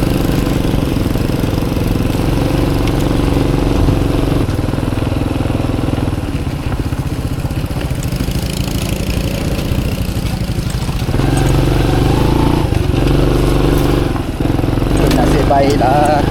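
A motorcycle engine idles with a steady low chug close by, while people talk over it throughout.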